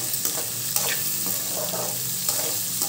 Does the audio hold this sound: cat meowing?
no